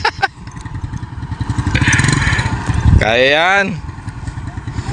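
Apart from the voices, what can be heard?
motor tricycle driving across a road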